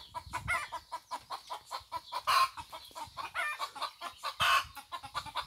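Backyard chickens cluck in a steady, rapid series of short calls, fairly close, with a couple of louder squawks breaking through and no talking.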